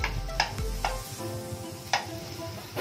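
A spoon stirs jaggery and grated coconut in a pan over low heat for modak filling, with a few sharp scrapes and taps against the metal over a faint, steady background.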